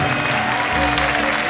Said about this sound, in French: On vous applaudit.